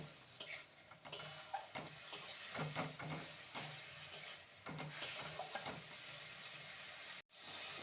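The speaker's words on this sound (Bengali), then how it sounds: "একটু জল বাটি জল ধুয়ে দিয়ে দেবো মশলাটাকে আবারও কষিয়ে নেব" Mustard and spice paste being fried and stirred in a pan, a gentle sizzle broken by repeated ladle scrapes and taps against the metal, close and fairly quiet.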